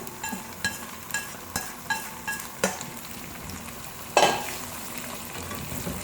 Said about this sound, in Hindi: अब हम कीमे और आलू की भुनाई करेंगे